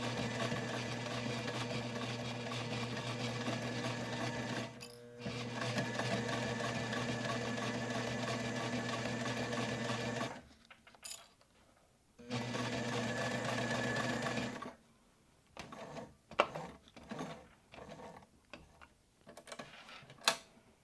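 A sewing machine stitches a leather wallet in long, steady whirring runs broken by short pauses, then shifts to slower stop-start clicking stitches near the end; no talking.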